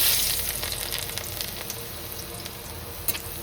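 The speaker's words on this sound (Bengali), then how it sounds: "তেল গরম হয়ে গেছে, এর ভিতরে আমি রসুন ছেড়ে দিলাম।" Garlic dropped into hot oil sizzles loudly and close, a dense, steady hiss that is strongest at the start and eases slightly, with one faint clink near the end.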